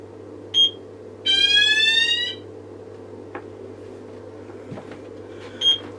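Fire alarm sounder on a C-tec panel in walk test, giving a short loud electronic alarm burst of about a second, framed by two brief beeps, over a steady low hum.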